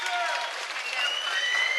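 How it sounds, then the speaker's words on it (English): A crowd at a fight event applauds an injured fighter, Molly, with steady, moderately loud clapping, while a commentator's voice talks over it. "The crowd rightly giving a nice round of applause there for Molly"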